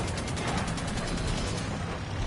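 Rapid bursts of heavy hand cannon gunfire in the video game Destiny 2 crackle continuously, loud and close, with dense overlapping shots and no talking.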